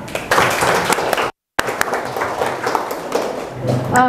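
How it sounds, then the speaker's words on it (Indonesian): Audience applause for Iqbal at an Acehnese literature and hikayat event: dense clapping that breaks off for a moment and then resumes, with voices under it. "Tepuk tangan buat Iqbal"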